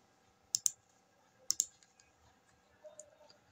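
A computer mouse gives crisp double clicks in a quiet room, two quick pairs about a second apart, then fainter clicks.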